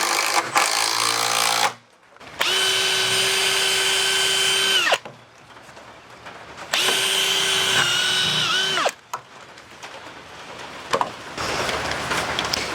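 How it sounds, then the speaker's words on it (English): Power drill driving through wood while a mud kitchen is built: two long, loud whining runs with a steady motor pitch that sags as the bit bites, then winds down, separated by quiet handling noise. "Now these are left and right handed drills."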